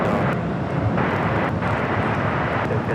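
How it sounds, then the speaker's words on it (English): A Delta airliner bound for Tokyo Haneda prepares for takeoff at Los Angeles airport, giving a steady, loud, broadband jet roar with wind rumble and no talk. "This is Delta Flight 7 getting ready to take off to Tokyo Haneda."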